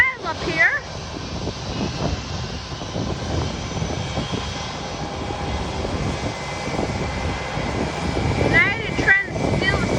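A JetBlue airliner at Fort Lauderdale airport at night gives a steady, loud, continuous jet engine roar that fills the whole stretch, with a brief swell near the start and end.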